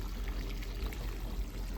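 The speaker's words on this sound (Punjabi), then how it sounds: "ਤੋਰੀਆ ਨੂੰ ਪਾਣੀ ਲਾਉਂਦੇ ਪਏ ਆਪਾਂ" Water is poured onto toria plants in a garden, giving a steady, soft gushing flow with low rumble throughout.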